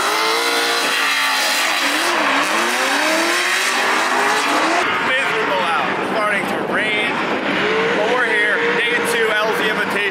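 V8 race cars at a drifting event, tires squealing and engines revving in a steady loud roar, with people talking over the noise throughout.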